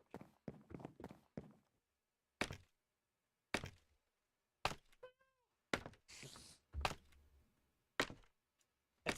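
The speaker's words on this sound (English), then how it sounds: "That's a good kitty." Minecraft cat meows in a few short, distinct calls, spaced among sparse blocky thuds and footsteps in a quiet game scene.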